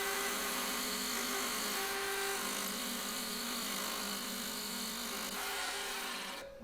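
A tiny live-edge wooden succulent pot spins steadily on a lathe while 220-grit sandpaper is held against it, giving a continuous, even whirring drone that runs alone throughout and eases off at the end.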